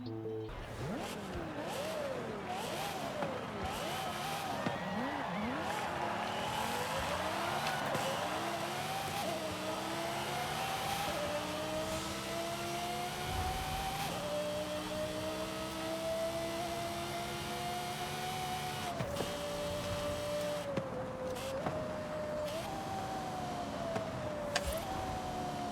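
Car engine in Forza Horizon 5 revving continuously for the whole stretch, pitch climbing and dropping in repeated sweeps, with brief gear-like dips and a steady loud roar throughout, no talking over it.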